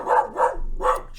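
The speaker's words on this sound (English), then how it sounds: "he's barking because the people that are coming to look at the" A dog barks three times in a quick, uneven run, close by and fairly loud, indoors with no talk over it.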